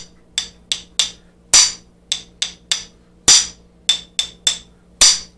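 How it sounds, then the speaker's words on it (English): Sharp metallic hammer strikes on a swage tool in copper pipe ring out in an uneven rhythm, about a dozen close blows, some doubled, each with a bright ringing decay. "I use my hammer, okay, and then I hit it a couple of times."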